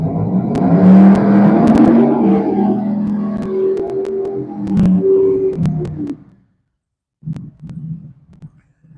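A Camaro and a Chevelle, drag racing cars at Mid Michigan Motorplex, launch with loud, close engine roars that rumble and rise for several seconds, then cut off abruptly, followed by short bursts of engine noise.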